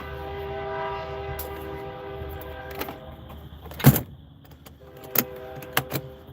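An Iowa Interstate railroad freight train rumbles past with a steady low drone, its horn sounding, along with a few sharp clanks and bangs close by.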